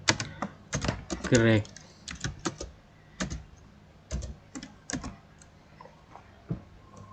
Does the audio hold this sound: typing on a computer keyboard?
yes